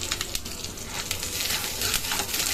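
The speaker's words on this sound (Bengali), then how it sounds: "এবার কালো জিরে ফোড়ন দিলাম" Black cumin seeds tempering in hot oil with onions in a kadai, a close, dense crackling sizzle with faint stirring taps throughout, no speech.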